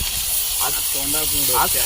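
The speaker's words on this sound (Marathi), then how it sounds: "बारीक चुळचुळ होत आहे" Steady, bright sizzling hiss of crab frying in hot oil on a flat griddle pan runs throughout, with a person talking over it.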